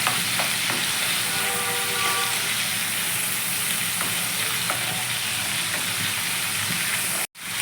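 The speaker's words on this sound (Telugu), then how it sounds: "అల్లం పచ్చపచ్చడి అనుకున్నాం కదా అది పచ్చి వాసన పోయేదాకా ఇలా కొంచెం వేపిస్తున్నాం" Ginger paste fries in a pan for baby onion curry, a steady close sizzle with scraping stirs throughout, cut off abruptly near the end.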